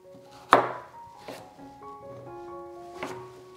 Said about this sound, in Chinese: 再切成小块。